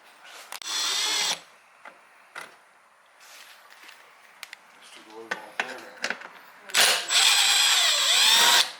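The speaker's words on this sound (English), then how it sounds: "these are Torx bits, so we got to take all these Torx bits" Power drill backing Torx screws out of a Daymaker LED headlight bucket, heard as two loud close whirring bursts at the start and end separated by quieter clicks and handling noises.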